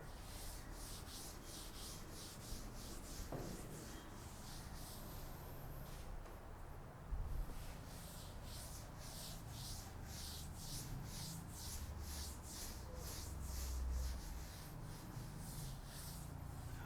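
Writing is wiped off a classroom board in a long run of brisk, rhythmic rubbing strokes, soft and close, with no talk.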